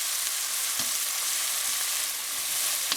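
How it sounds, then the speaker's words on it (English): Tomatoes, onions and scallions sizzle steadily in a pan for a Guyanese fish curry, a close, constant frying hiss broken by a few soft knocks of stirring. "the onions and scallions have been frying up for about a minute"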